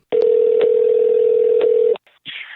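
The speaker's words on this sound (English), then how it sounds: "let's get AUBRY on the phone" A telephone gives a loud, steady dial tone for almost two seconds while a call is being placed, then short tones follow as the line starts connecting.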